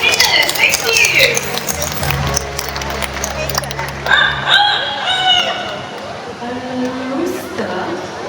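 An Amazon parrot at a bird show in Singapore imitates a rooster's crow, a drawn-out cock-a-doodle-doo call with clucking notes, heard amid crowd noise and a presenter speaking.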